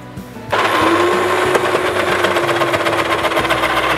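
A Disnie food processor slicing potatoes starts up suddenly, then runs as a loud, steady high-pitched motor whine with a rattling blade chatter, close and continuous, with no talk over it.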